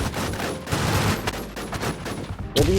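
Rapid bursts of gunfire from a game club in the Thai survival game DongDibZ, loud and dense throughout, with a sharper crack near the end.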